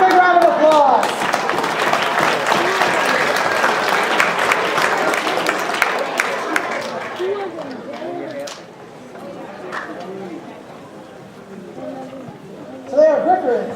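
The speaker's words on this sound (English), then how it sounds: "So, let's give a big round of applause." Lively audience applause at a university chemistry demo night, dense clapping for about seven seconds that fades into chatter and voices of people talking nearby.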